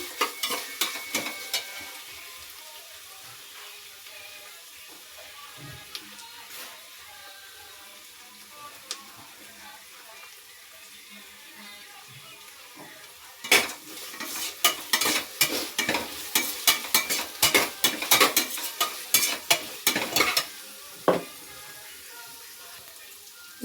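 Green masala paste roasts in a pan with a soft continuous sizzle, while a spoon scrapes and stirs in quick bursts that turn louder and busier in the second half, close up with no talking.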